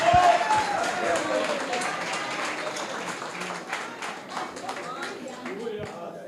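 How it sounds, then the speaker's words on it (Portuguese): A church congregation claps in a scattered, uneven burst that starts loudest and thins over several seconds, with voices mixed in underneath. "Vamos dar um lindo aplauso, vamos dar um lindo aplauso."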